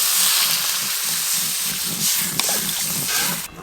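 Water poured into a pan of lightly fried potatoes and pointed gourd, producing a loud, steady sizzling hiss with bubbling crackle that stays continuous, then fades slightly at the end.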